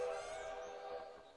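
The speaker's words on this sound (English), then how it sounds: "Ooh, train." A train passes in the Stardew Valley farming video game, a faint, steady whistle-like tone with a soft rumbling rail sound underneath, heard briefly and at low volume.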